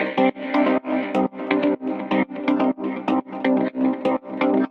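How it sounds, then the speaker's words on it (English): A melodic techno synth line with a plain delay effect plays as a loud, steady run of short rhythmic chords, each hit trailed by echoing repeats. "On top of that, let's also add just some regular delay."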